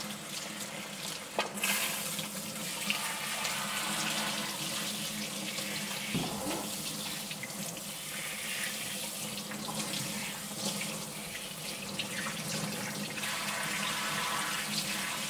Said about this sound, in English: Now we're gonna rinse it off with water.